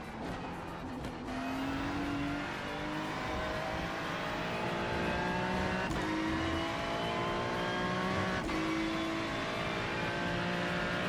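A BMW GT3 race car in iRacing at Circuit of the Americas holds a loud, continuous engine drone, its pitch sweeping up through the gears with brief shift breaks, alone without talk.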